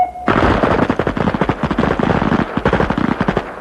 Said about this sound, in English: The Colt 9mm machine gun is lightweight, fully automatic, can fire 52 rounds in a matter of seconds